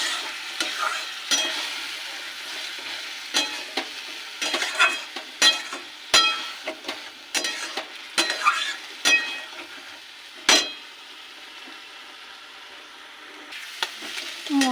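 Salt, turmeric and ground cumin are stirred and fried in a pan for an egg and pointed gourd curry. A continuous sizzle runs under repeated scraping strokes and metallic clinks of the utensil against the pan.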